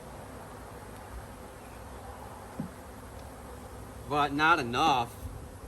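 Honey bees hum over frames of a honeybound, queenless hive, a low steady buzz beneath a brief spoken phrase from a man near the end.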